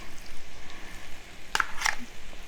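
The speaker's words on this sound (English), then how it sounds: "now I'm going to toss the steak" Steak fries in a pan with a soft, low sizzle, broken by two brief, brighter bursts of crackle as the meat is tossed.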